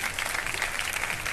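A studio audience on a morning show claps for a guest, a short burst of dense, lively applause that stays strong and even throughout before tapering at the very end.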